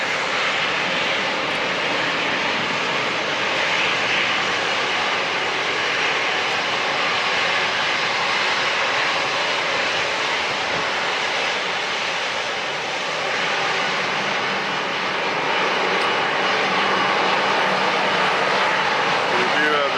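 A Southwest jet airliner at San Diego International Airport, its engines a loud, steady roar that holds for the whole stretch, with a voice talking over it at times.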